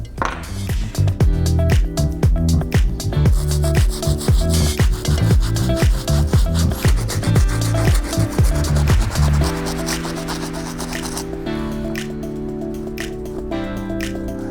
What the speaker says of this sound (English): the next thing is gonna be to hit up this midsole just a little bit with the sole brush